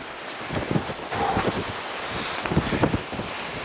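Gusty wind buffets a microphone on an open fell top in the Lake District, a steady breathy rush with irregular rumbling thumps, fairly close and moderately loud with no talking.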